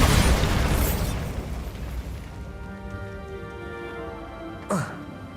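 A Bombarda spell blasts in Hogwarts Legacy, a loud close explosion with a burst of rumbling debris that slowly fades into ringing tones, ending with a sharp swooshing pop, while a voice speaks.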